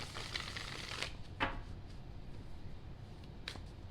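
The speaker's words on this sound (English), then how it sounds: "Telling me shuffle twice, cut once." Tarot cards are shuffled by hand in quiet, crisp bursts, a few riffling flicks and soft taps close by with no talking.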